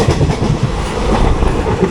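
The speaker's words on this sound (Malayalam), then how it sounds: "അത് ചെന്നൈ എഗ്മോർ കൊല്ലം അനന്തപുരി എക്സ്പ്രസ് ആണ്" Chennai Egmore–Kollam Ananthapuri Express train passing close by, a loud continuous rumble with rhythmic clickety-clack of wheels on rail joints.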